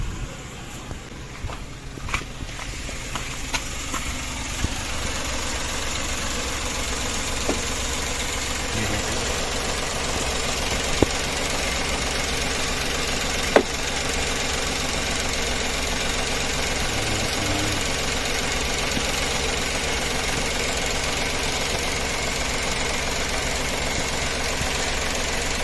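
A Suzuki Every mini van engine idles steadily for a long stretch during coolant bleeding, a constant low rumble with a faint rhythmic knock and a couple of small clicks.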